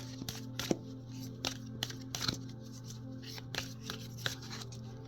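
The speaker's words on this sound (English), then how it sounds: "Let's shuffle a little bit. Warm them up." Tarot cards are shuffled in quick riffling bursts, soft rustling and flicking at an irregular rhythm, close and fairly quiet over a low steady hum.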